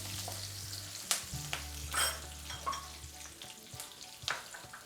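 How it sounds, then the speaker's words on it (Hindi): Finely chopped green chili, with curry leaves in the oil, sizzles and fries in a pan, a quiet crackle broken by a few spoon scrapes and stirs, close by with no talking. "एक बारीक कटी हुई हरी मिर्च डाल रही हूँ। इसको थोड़ा सा ऐसे भून लूँगी।"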